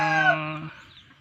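A single loud, drawn-out call from a chicken nearby, fading off within a second, with no talking.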